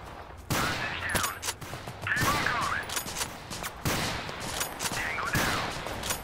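Gunfire in the shooter game Total Conflict: Resistance, repeated loud bursts and single shots in uneven clusters, with a voice talking between them.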